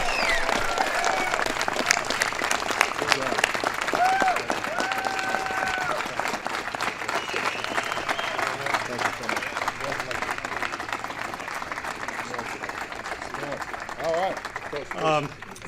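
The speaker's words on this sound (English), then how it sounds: "Big round of applause." An audience applauds the Super Bowl champion Denver Broncos at a presidential ceremony, with dense, sustained clapping and crowd noise running throughout. Faint cheering and voices sit underneath the steady applause.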